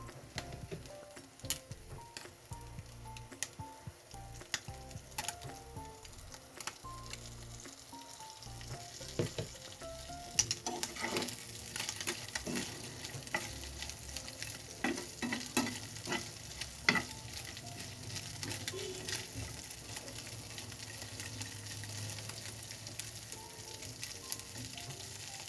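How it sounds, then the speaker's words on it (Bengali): Fish fries in oil in a home kitchen, a soft continuous sizzle with occasional stirring clicks and pops, steady and fairly faint throughout. "কাঁচা ভাবটা চলে গেলে ভালোভাবে তেলের মধ্যে ফ্রাই করে নিব।"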